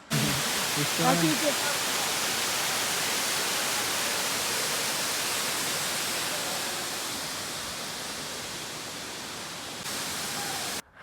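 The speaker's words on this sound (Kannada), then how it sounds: "ನೋಡಿ ಆ ನೀರು ಹರಿತಿರೋ ಶಬ್ದ ನೀವು ಕೇಳ್ಬೋದು ಅಂತ ಅನ್ಸುತ್ತೆ" Water flowing at a waterfall on Revanna Siddeshwara hill near Ramanagara, a loud, steady broadband rush heard from nearby, with a brief voice at the start.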